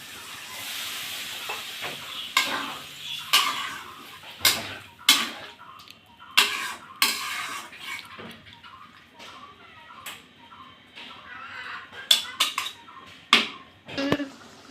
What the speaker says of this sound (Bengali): দেখুন আমার ডুমুরটা কি সুন্দর টকবক করে ফুটছে